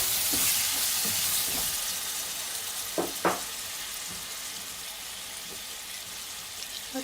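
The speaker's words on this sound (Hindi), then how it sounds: "ये मैं टमाटर इसके अंदर ऐड कर रही हूँ।" Tomatoes and green chillies go into a hot pan of mixed vegetables, giving a steady close sizzle with a few sharper bursts of added sizzling partway through and no voices.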